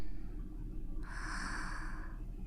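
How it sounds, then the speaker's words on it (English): Snoring from a girl character in the visual novel game ISLAND, a low raspy breath followed by a nasal, snorting inhale, close and fairly quiet. "It's a girl snoring."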